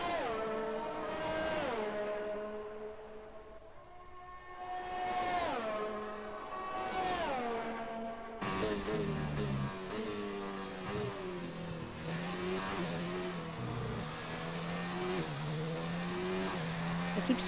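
Several race cars lap a virtual circuit in a racing game, engines rising and falling in pitch as they pass and shift, loud and continuous, with a denser, busier engine roar taking over partway through and faint tire squeal under it.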